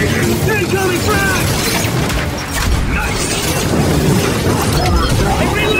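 A frag grenade bursts in Gears 5 Horde mode amid dense, continuous battle noise, a loud low boom folded into steady gunfire and mechanical clatter, with players' voices calling out over it.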